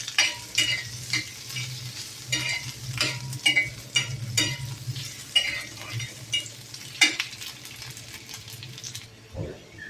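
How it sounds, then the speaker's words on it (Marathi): Onion roasting in a pan until pinkish-brown for a Maharashtrian katachi amti, a steady sizzle with repeated stirring scrapes and light utensil clinks throughout, close and alone. "कांदा एकदम असा गुलाबी रंगावर भाजून घ्यायचा आपल्याला"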